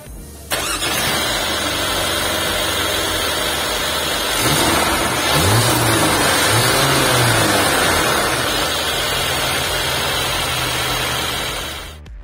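Mercedes-AMG GLA 35 SUV engine starting up loudly, the starter catching into a brief rev and then settling into a steady close idle with no talking.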